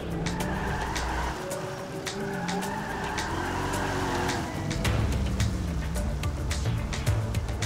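A car driving in the video game GTA 5, engine droning with tire squeals and skids, steady and fairly close with game sounds around it.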